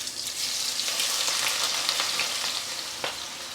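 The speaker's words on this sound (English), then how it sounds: "In that really hot oil, just let these onions crisp up." Onions crisping in very hot oil give a steady, bright, close sizzle and crackle, with a few sharper pops and stirring scrapes, and no voices.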